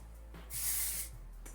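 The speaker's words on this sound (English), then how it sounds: "I'm just going to lift these curls, spray through it" A single dry shampoo aerosol spray hisses through curly hair for about half a second, a steady airy burst heard up close with no voices around it.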